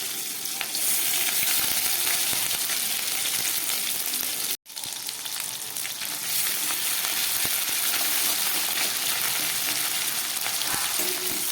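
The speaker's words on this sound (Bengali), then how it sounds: "আদাটা একটু ভাজা হয়ে গেল" Ginger paste and slit green chillies frying in oil in a pan, giving a continuous dense sizzle and crackle close by, with one very brief dropout partway through and no talking.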